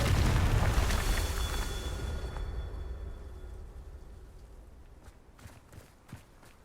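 A Confringo fire spell blasting in Hogwarts Legacy, a loud, broad roaring explosion that fades over a few seconds into a low rumble, followed by faint scattered pops and thuds.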